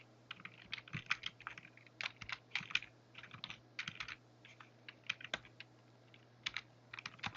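Rapid, irregular clicks of someone typing on a keyboard, in quick bursts with short pauses, close and fairly quiet.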